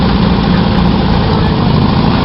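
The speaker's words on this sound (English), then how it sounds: "This is a 1953 Alice Chalmers Model T." A 1953 Allis-Chalmers Model T tractor engine, a 9-horsepower puller at a harvest reunion show, idles steadily up close with a deep, loud, even rumble and no voices over it.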